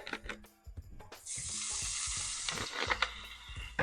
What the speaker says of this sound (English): we'll go ahead and just sort of scrape stuff up off the pan here, right?